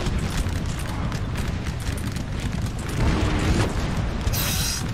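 Napoleonic Total War 3 battle noise: deep artillery booms roll over a dense, continuous rumble, with a heavier swell midway and no talking.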